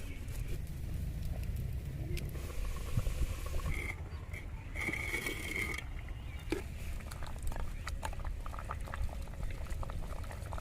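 Chicken curry with peas, tomato and a whole garlic bulb simmering covered in a clay pot, a continuous bubbling boil with soft popping and gurgling, close and steady throughout.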